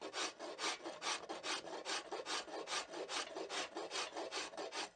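A farrier's rasp filing a wooden self bow in steady back-and-forth strokes, about three per second, close and fairly quiet with no talk.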